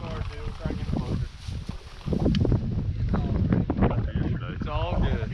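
Gusty wind buffets the microphone outdoors on an Oklahoma duck hunt, a steady low rumble under a voice that runs throughout.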